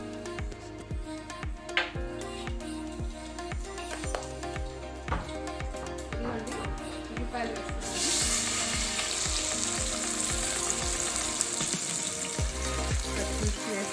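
Cumin and mustard seeds fry in hot oil for a curry, a steady close sizzle with crackling pops, growing louder and hissier partway through as more is added.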